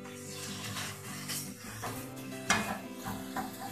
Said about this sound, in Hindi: 1-2 मिनट हो गया चिकन को फ्राई होते हुए